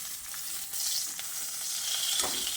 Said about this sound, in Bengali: মাছের মাথাটাকে ঘুরিয়ে ফিরে চার সাইড ভালো করে ভেজে নিতে হবে।